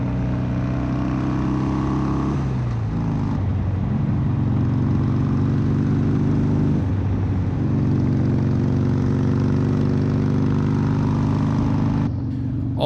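A Harley-Davidson Roadster motorcycle engine drones steadily while riding, holding a loud, even rumble with brief dips and shifts in pitch every few seconds, as if changing gears or throttle.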